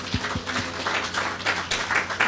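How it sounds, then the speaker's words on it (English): Audience applause for Sister Anjani after a meditation she led at an outdoor peace event in a park: steady, moderately loud clapping from a crowd, continuous with no voices over it. "So let's thank Sister Anjani. Is she around? With a big round of applause"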